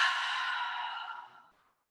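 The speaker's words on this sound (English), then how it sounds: "Take a full breath in at neutral. Complete exhale." A complete exhale during a meditation-in-movement session, a single close, breathy rush of air that fades out smoothly over under two seconds.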